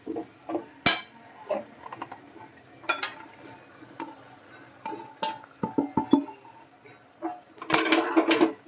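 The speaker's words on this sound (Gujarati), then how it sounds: "બધું મિક્સ કરી લેશું સારી રીતે." Spices and crumbled millet rotlo are mixed for Kathiyawadi garlic rotlo, with irregular close clinks, scrapes and taps of a spoon against a bowl, separated by quiet pauses and ending in a denser flurry of mixing, without talk.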